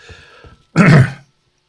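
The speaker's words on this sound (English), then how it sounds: "Excuse me a second while I just cough to death." A man clears his throat once in a short, harsh burst after a brief stretch of quiet speech, then silence follows.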